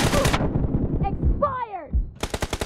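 Gunfire in the mobile shooter game BGMI: a burst of rapid automatic shots, then a pause with game effects and a brief voice, then another quick string of evenly spaced shots.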